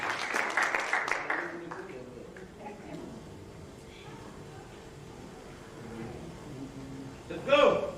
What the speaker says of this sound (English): Please give us a big round of applause.